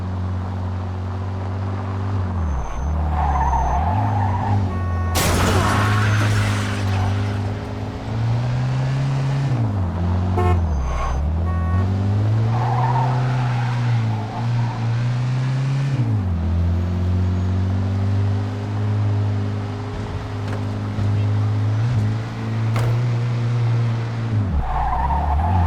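Cars in a high-speed chase through city streets in the Mafia II video game, engines roaring continuously with repeated tire skids and screeches throughout, loud and close with no talk.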